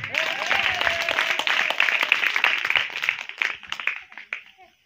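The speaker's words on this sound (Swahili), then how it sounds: "Mpe Yesu makofi tena." A church congregation at a deliverance service claps together in a dense burst of applause, loud and sustained before thinning out toward the end, with a voice briefly rising over the clapping.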